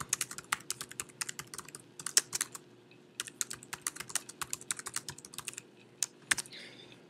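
Someone types a comment on a computer keyboard, with quick irregular bursts of light, close key clicks separated by short pauses.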